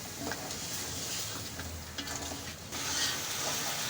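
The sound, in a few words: mutton being roasted (bhunai) in a pot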